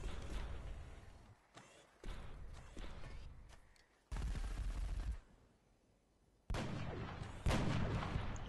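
Gunfire in the video game XCOM Enemy Within: several heavy, booming shot bursts separated by short quiet gaps, loud and punchy, with no talking.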